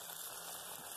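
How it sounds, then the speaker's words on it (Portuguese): Breaded chicken breast frying in hot oil, a steady close crackling sizzle that hisses evenly throughout without pause. "Gente, comecei a fritar."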